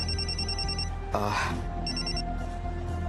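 A telephone rings in a household scene from a Marathi TV serial, its electronic ringtone repeating in steady bursts at close range, broken briefly by a louder rustling clatter midway.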